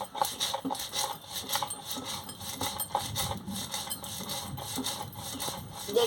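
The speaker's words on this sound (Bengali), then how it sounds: "এবার আমি সরষাটাকে বেটে নিচ্ছি।" Mustard seeds are ground into paste by hand, producing repetitive rasping, rubbing strokes in a steady back-and-forth rhythm, close and moderately loud.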